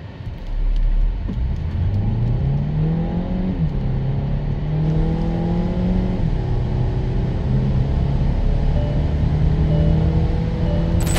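A Hyundai Kona N-line Hybrid accelerates steadily, its front-drive engine note rising through several gear changes with a constant rumbling drone and whir, heard close from inside without talk.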